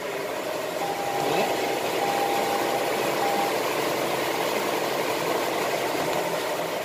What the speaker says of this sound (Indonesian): Ini mesinnya sudah hidup karena ini mobilnya hybrid.